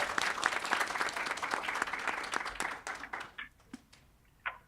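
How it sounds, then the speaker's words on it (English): An audience at a women in machine learning and AI panel gives the panelists a round of applause, dense clapping that thins out after about three seconds into a few scattered, fading claps. "let's give another round of applause to our panelists"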